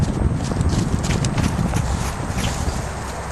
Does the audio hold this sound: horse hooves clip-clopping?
yes